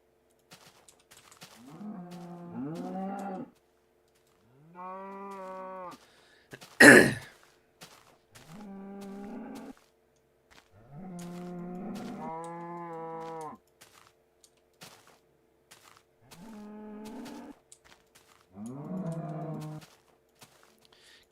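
Cows mooing in the video game Minecraft, several separate drawn-out moos spaced every couple of seconds, fairly close and clear against silence, with one short sharp thud partway through.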